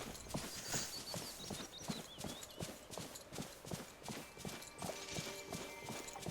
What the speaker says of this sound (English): I mean, I do realize riding on a horse is a lot faster.